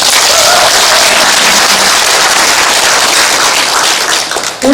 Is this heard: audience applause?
yes